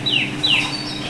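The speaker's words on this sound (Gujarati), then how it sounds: "આ કયું પક્ષી છે?" An unidentified bird gives two quick, high, downward-sweeping chirps half a second apart, clear and fairly close, over a faint background hum.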